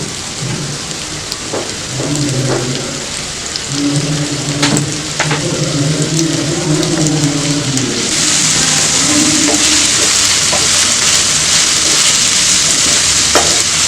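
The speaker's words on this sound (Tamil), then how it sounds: "வெங்காயம் நல்லா வதங்கட்டும்." Onions frying in a pan for mutton sukka, a steady close sizzle with scraping stir strokes and a faint background hum, growing louder and hissier in the last few seconds; no speech.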